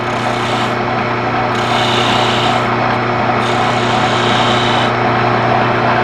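A wood lathe spins continuously while a skew chisel cuts a shoulder into the turning wood, giving a loud, steady scraping drone with a few shifts in the cutting hiss.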